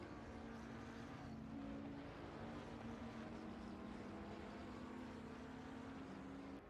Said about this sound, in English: Let them hear the engine sounds.